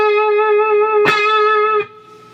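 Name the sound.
electric guitar playing part 1 of slow blues solo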